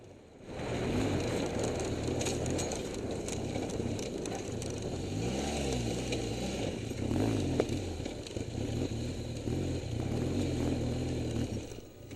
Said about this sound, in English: Rather than riding in the deep sand in the wash, he's looking for a path with less deep sand